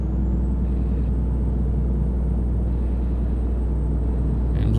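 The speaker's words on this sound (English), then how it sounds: "There's those Jake brakes here." A Detroit diesel truck's Jake brake in American Truck Simulator rumbling in a deep, steady drone, with a faint rising whine above it.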